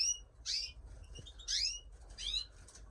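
Small caged birds give three bursts of high chirps and tweets, fairly close, in a bird collection where Siberian classic cocks are kept.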